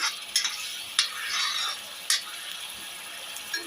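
Masala pasta stirred and cooked with spices in a pan makes close, repeated scraping and sizzling strokes, with a few sharper spoon-against-pan hits between softer hissing.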